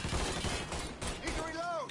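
Video game gunfire from Mafia 3 cracks in a burst of rapid shots at the start, followed by a short whistling, warbling tone near the end; no one talks.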